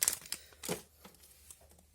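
An Opus XI trading card pack wrapper is torn open by hand, giving faint, close crinkling and a few sharp tearing bursts in a quiet room.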